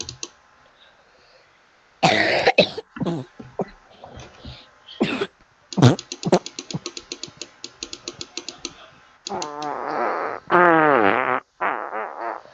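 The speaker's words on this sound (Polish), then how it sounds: "Czemu pierdzisz?" A series of fart noises, from short sputters to long rippling blasts, loud and close with gaps of silence between them, in a multiplayer game session and with no talking.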